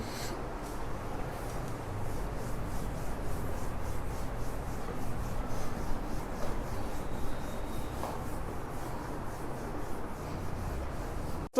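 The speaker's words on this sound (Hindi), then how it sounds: "मैं इसको रब कर रहा हूं।" An eraser or duster rubs steadily across a classroom board, a continuous dry scraping that stays close and even for the whole stretch, with no speech over it.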